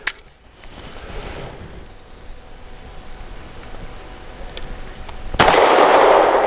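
Shots from an FN Browning BDA 380 pistol loaded with Norma MHP 85-grain ammunition, with a sharp report at the start and another loud blast near the end over outdoor background noise.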